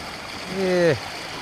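Rain-swollen water flows at a fishing spot with a steady, even rush, and a brief voice rises over it midway.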